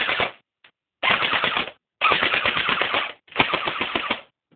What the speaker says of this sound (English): So now full auto.